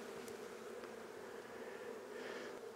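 A dense swarm of honey bees hums steadily and close during removal of a hive from a chicken coop, with a few brief louder passes and no talking.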